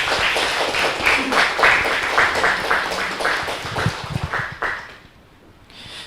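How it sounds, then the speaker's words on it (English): Applause from a workshop audience follows a talk, a fairly close, uneven patter of clapping that tapers off and stops near the end. "please have a loud applause"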